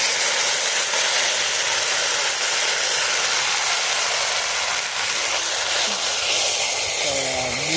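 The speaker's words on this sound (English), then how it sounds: "What a sizzle." Baked beans sizzling loudly in a hot pan over an outdoor fire for Jamaican cooking, a dense, steady hiss close by throughout.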